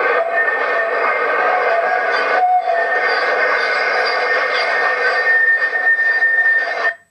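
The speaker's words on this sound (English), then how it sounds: "This is a typical train or tram noise" A loud, sustained high-pitched screech, like train wheels grinding on rails, holding steady for about seven seconds before cutting off abruptly.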